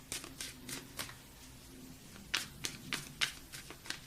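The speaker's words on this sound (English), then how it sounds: "they're so fun to shuffle" A thick, oversized tarot card deck being shuffled close up, quiet riffling bursts in two groups with a brief pause between, each flutter short and crisp.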